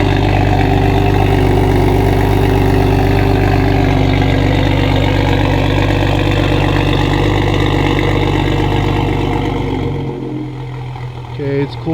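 A Toyota Supra with an ARK DT-S exhaust idles loud and close, a deep steady rumble that drops off sharply near the end, leaving a quieter, lower tone.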